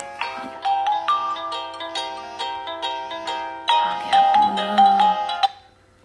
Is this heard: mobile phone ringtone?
yes